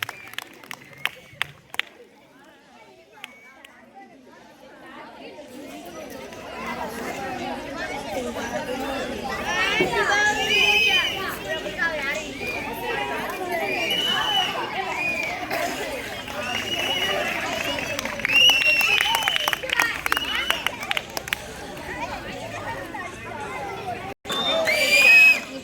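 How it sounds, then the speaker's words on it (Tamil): An audience applauds the teachers at a church catechism award ceremony, with sustained clapping and crowd chatter building and holding for most of the stretch, loud and close. "நம்முடைய கரம் தட்டி பாராட்டுகளை, நன்றிகளையும் அன்புடன் தெரிவித்துக் கொள்கின்றோம்"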